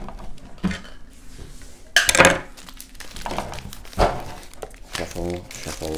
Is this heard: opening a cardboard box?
yes